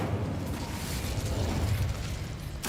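The Incendio fire spell cast in a Harry Potter video game gives a steady, roaring burst of flame, full and rumbling for a few seconds before a sharp crackle at the end.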